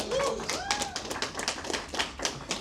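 Audience at a convener's welcome speech and vote of thanks clapping in a scattered, uneven rhythm of sharp individual claps, close and moderately loud, with a voice briefly heard over the start.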